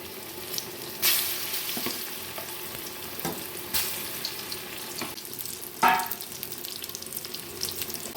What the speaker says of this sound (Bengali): উচ্ছেগুলো তেলে দিয়ে ভেজে নিচ্ছি ভালো করে